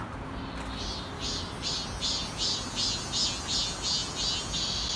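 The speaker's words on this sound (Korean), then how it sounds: "참매미 빨리 운다" A Korean cicada (charmmaemi) calls in a rapid series of rhythmic pulsing buzzes, repeating steadily and fairly close over a background hum of outdoor noise in a Seoul residential alley.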